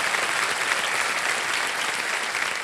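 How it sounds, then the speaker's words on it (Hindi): A studio audience on a quiz show applauding a contestant, dense sustained clapping from many hands, steady and fairly loud throughout. "तालियों के साथ इनका स्वागत करते हैं।"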